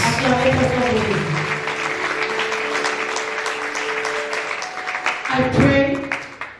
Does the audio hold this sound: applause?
yes